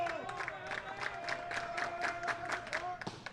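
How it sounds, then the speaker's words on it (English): Crowd noise and players making noise in the dugout at an NJCAA District C championship baseball game, a busy Saturday afternoon at the ballpark: a continuous mix of cheering, chatter and a few clapping bursts, moderately loud throughout. "those Cougars back up on their feet in the dugout, making some noise"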